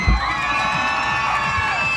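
An audience cheers at a SuperDogs show at the Timmins Fall Fair, with loud continuous cheering, whoops and children's shouts from a big crowd.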